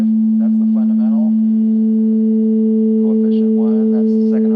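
A Synclavier Go synthesizer sounds a steady pure sine-wave fundamental that holds throughout, with a second higher partial added partway in, while someone talks over the sustained tone.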